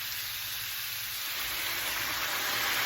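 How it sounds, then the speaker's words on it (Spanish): Vinegar is poured steadily over sliced carrots and jalapeños with bay leaves in a pot, giving a close, even hiss-like splashing that holds for a few seconds. "Vamos a colocarle el vinagre."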